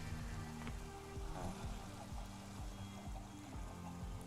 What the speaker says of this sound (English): this rain is ruining the bitrate